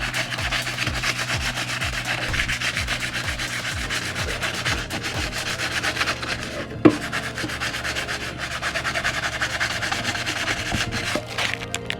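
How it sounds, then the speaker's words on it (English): Abrasive scuffing across the surface of a bicycle disc brake rotor, removed for cleaning, as dust is rubbed off. Steady, close rubbing strokes repeat in a quick rhythm, with one sharp knock partway through. "I also like to do the same process with my rotor, just to scuff it up a little bit and take off any of that dust that's clinging onto it"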